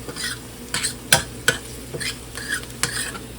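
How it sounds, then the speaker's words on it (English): Spoon stirring a lentil salad with ginger in a pan, a series of distinct scraping strokes, some sharp and clinking, with a soft sizzle underneath, close and fairly quiet. "So I'm going to give this another stir."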